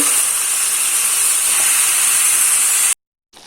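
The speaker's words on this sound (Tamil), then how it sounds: "சிக்கனை போட்டு இந்த மாதிரி ஒரு 2 நிமிஷம் நல்லா வதக்கிக்கிறங்க." Chicken sautés in a hot pan with a loud, steady hiss of sizzling that runs unbroken, then cuts off abruptly near the end.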